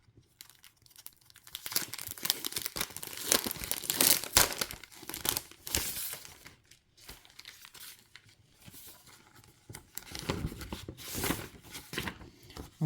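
Sheets of double-sided scrapbooking paper from a patterned paper collection crinkle and rustle as they are handled, with bursts of crumpling and tearing-like rustles coming and going close by, alone without talk.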